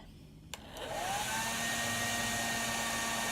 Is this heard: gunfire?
no